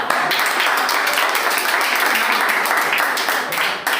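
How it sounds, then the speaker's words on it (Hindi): Audience at a Dr Hari Singh Gour Jayanti celebration clapping, loud, dense and continuous applause that holds steady for the whole stretch before easing slightly at the end. "ताली बजाएं क्या?"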